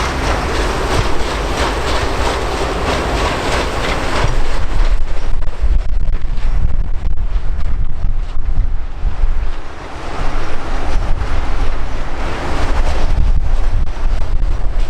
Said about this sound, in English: Getting a little bit windy now as well.